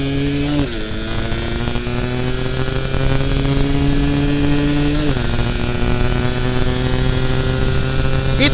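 A 110cc Yamaha F1ZR motorcycle engine revs steadily upward, its droning tone climbing in pitch as it accelerates, with a brief drop and pickup mid-run, close and loud throughout.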